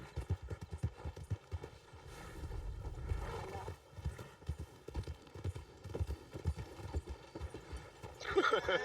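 Horse hooves clip-clop steadily in Red Dead Redemption 2 as the horse rides along and crosses a bridge, with a brief whinny partway through and game ambience underneath, fairly quiet overall.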